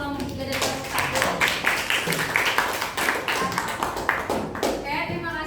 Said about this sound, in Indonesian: Beri tepuk tangan dulu untuk kelompok 3 dan kelompok